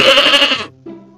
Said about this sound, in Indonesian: ini si lucu domba